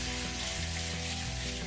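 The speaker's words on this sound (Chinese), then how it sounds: "就可以直接加入我们的猪肉，快速翻炒，让那个猪肉能沾上这个冰糖" Pork hitting a hot pan with caramelized rock sugar and being stir-fried fast for home-style red-braised pork belly, giving a steady, close hissing sizzle throughout with low tonal hum underneath.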